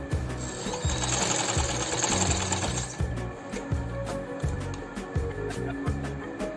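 A sewing machine stitching an elastic waist on pants: a fast, steady whirring run of stitches, then short rhythmic bursts of needle clatter with brief pauses between them, close and clear.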